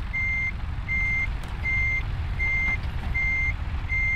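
Truck reversing beeper in Euro Truck Simulator 2: six evenly spaced, steady electronic beeps over a continuous low diesel engine rumble, with no talking.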